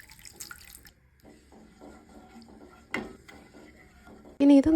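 Water is poured into a cooking pot of rasam mixture. It makes a soft splashing trickle with a few clinks, then a louder rush of pouring near the end, close by.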